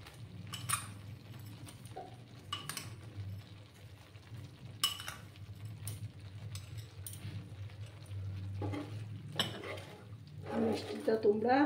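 A spoon scrapes and clinks against a pan while sweet sandesh mixture, sugar added, is stirred in a Bengali kitchen, giving intermittent metallic taps and knocks over a low steady background, fairly quiet and close.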